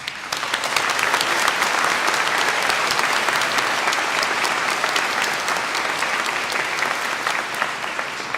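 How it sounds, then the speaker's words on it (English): Sustained applause from a graduation audience at Center Moriches High School honoring teachers, dense steady clapping from a large crowd filling the whole stretch without pause. "give a round of applause to the teachers here at Center Moriches"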